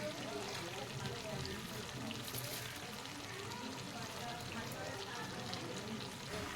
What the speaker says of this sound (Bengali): এবার আমি কেটে রাখা বাঁধাকপিগুলো ঢেলে দেবো ওপর থেকে